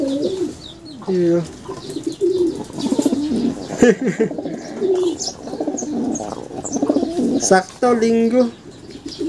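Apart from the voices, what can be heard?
racing pigeons cooing after arriving from a race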